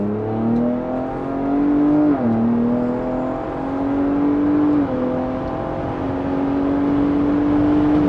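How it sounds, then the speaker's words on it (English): A 2022 Ford Bronco Raptor's 418-horsepower engine revs hard through its active valve exhaust, a loud, continuous near roar that rises and dips in pitch with throttle changes, heard alone without talk. "Oh yeah, this Raptor screams."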